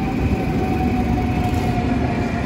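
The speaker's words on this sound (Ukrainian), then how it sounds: "Наш поїзд підлетів в Maastricht." A train pulls into the station at Maastricht, a loud, steady rumble of wheels and carriages with a faint whine above, continuous throughout and without talking.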